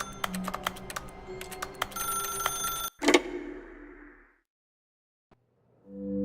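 A telephone rings in The Stanley Parable: Ultra Deluxe video game, a run of repeated tonal rings with clicks, then a sharp cutoff into near silence before a low tone returns.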